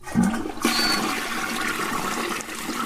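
A toilet flushes close by, a loud rushing gush of water that starts abruptly and keeps draining steadily for a few seconds, with no voices over it.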